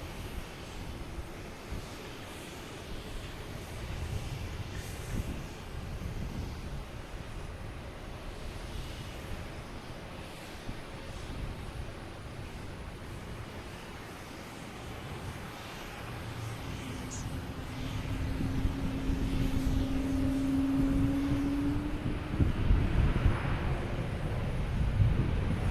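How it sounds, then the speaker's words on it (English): An American Airlines Airbus A321 from LAX lands at Boston Logan, a broad distant engine rumble over wind that swells louder toward the end, with faint speech at times. "We have an American Airlines A321 coming in from LAX."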